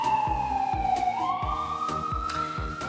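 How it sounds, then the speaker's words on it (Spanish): An ambulance siren on a New York street wails loudly and close, its tone sliding and wavering, over the rumble of traffic and a repeated low thumping. "Esto es una ambulancia, no sé."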